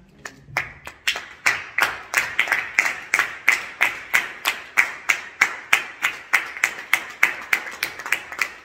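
A church congregation claps together in praise of the Lord, steady rhythmic handclaps at roughly two per second, building from a few scattered claps into a loud, unified beat.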